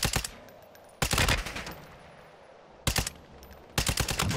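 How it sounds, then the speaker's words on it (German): ISO submachine gun firing in Call of Duty, with four short sharp bursts of rapid shots separated by quieter gaps, close and punchy. "gleich wird der mit der ISO bestimmt schießen"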